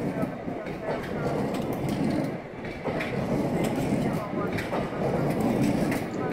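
Talgo train with light single-axle bogies rolling past in Almaty, Kazakhstan, giving a steady clatter with intermittent clicks from the rail joints, heard alongside someone speaking.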